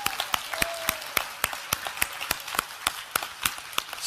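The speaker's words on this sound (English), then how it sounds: "Let's give a good clap to Pastor Elizabeth." A church congregation claps for a visiting pastor: loud, distinct claps in an uneven rhythm, close and crisp, with no talk during the clapping.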